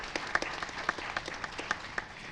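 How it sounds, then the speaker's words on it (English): A small audience at a community forum held in a church gives a sparse round of applause, a handful of distinct claps ringing out over a faint background wash. "Give him a big round of applause for helping us out."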